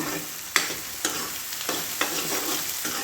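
Ridge gourd pieces frying in oil in a pan for a sabzi, a close steady sizzle broken by regular scraping stirs about every half second, with no voices.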